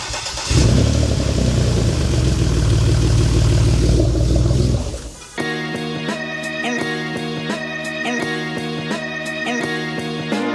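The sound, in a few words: car engine cranking and starting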